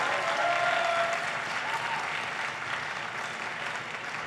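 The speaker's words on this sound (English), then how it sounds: "put your hands together and give yourself a lusty round of applause for accomplishing this milestone" Graduates at an evening university graduation ceremony in a pavilion give themselves a sustained round of applause, a dense, even wash of clapping from a large crowd that holds steady and eases slightly toward the end.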